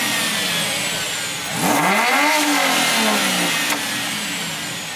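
A BMW with a straight-pipe exhaust revs hard at a BMW car meet, one loud rising-and-falling rev swelling up from a steady idle, with a sharp crackle as it drops back, close by and alone without talk.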